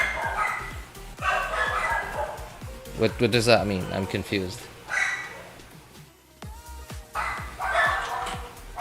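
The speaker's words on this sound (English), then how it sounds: "Slap your dog to shut up?" A dog barks repeatedly, with yips and whimpers in irregular bursts. The barking sounds fairly close and loud, and someone talks over it and between the barks.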